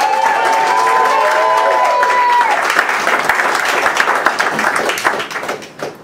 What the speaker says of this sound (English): Please give a nice round of applause for Mr.